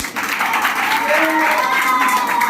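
Strong applause from a gathering at a local municipal election meeting in India, dense continuous clapping with a voice and crowd murmur running underneath.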